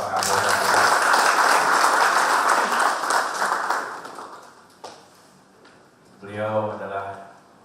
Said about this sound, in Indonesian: Tepuk tangan untuk Bapak Kapolda.